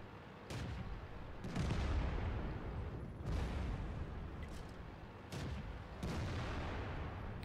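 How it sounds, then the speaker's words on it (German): Tank cannon shots in the World of Tanks game, with an M4 Improved in play: several heavy booming blasts at irregular intervals over a continuous rumbling battle background, with no talking. "So, jetzt hat er geschossen."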